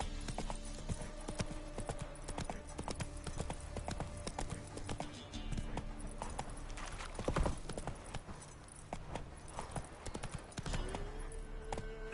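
Roach, Geralt's horse in The Witcher 3 video game, galloping with rapid rhythmic hoofbeat clip-clops over a low game soundtrack, the pace steady throughout with occasional louder thuds.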